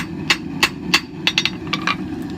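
A hammer strikes a hot steel viking spoon knife blade while a distal taper is forged toward the tip, giving a steady series of about a dozen sharp, close metallic blows with a low continuous roar beneath.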